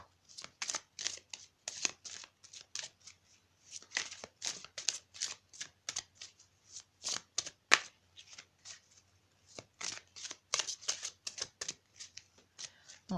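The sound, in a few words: shuffling a deck of tarot cards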